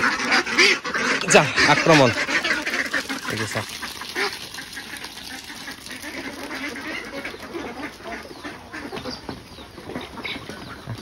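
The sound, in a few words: ducks quacking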